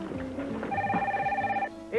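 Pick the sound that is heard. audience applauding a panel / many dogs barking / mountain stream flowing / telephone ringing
telephone ringing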